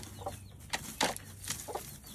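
Soft, scattered clucks from a broody hen and short chirpy calls from her chicks, a few sharp bursts close by with quiet gaps between.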